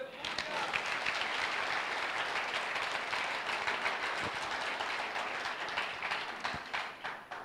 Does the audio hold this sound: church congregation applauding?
yes